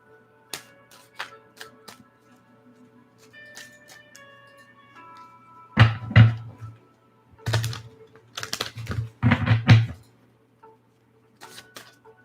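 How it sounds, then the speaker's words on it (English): Brisk bursts of tarot cards being shuffled, crisp riffling clatters separated by quiet pauses, close and fairly loud. "Shuffle the cards."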